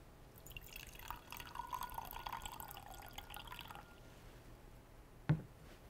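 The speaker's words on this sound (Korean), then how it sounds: "이쪽 비커에 물을 먼저 넣고 식용유를 부어 보도록 하겠습니다" Water pours into a beaker, a faint, thin trickling stream that runs for a few seconds and then stops, followed by one sharp clink of glass.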